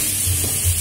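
Tomato, onion and garlic sauté in a pan for lomo salteado, making a steady, close, hissing sizzle with a soft low rumble underneath, heard alone and briefly.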